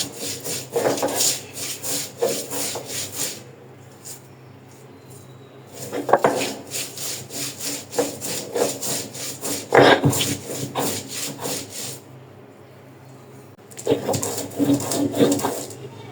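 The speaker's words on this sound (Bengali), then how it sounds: "এই যে আমার পেঁয়াজ রসুন বেলে মরিচ আর রসুন গুলা বাটা হয়ে গেছে।" Garlic, onion and dried chili are ground by hand on a stone slab with a grinding stone, giving repeated rough scraping and rubbing strokes in bursts separated by short pauses, close and fairly loud.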